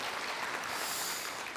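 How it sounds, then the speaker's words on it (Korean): Applause from an audience at an entrepreneurship award ceremony and lecture, a steady wash of clapping hands heard at a distance, brief and fairly faint. "다시 한번 박수 부탁드리겠습니다"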